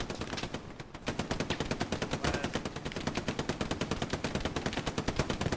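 Sustained automatic rifle fire in the WWII shooter Hell Let Loose, a rapid, steady stream of loud close shots with a short pause near the start, then continuous rhythmic bursts.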